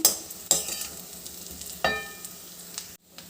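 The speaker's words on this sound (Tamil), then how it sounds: "தேவையான அளவு உப்பு நல்லா கலரி விடணும்" A spoon scrapes and stirs potato podimas with salt in a pan, giving three or four sharp clanks against the metal over a faint sizzle, then a brief pause before it resumes.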